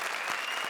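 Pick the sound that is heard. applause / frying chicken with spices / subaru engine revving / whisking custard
applause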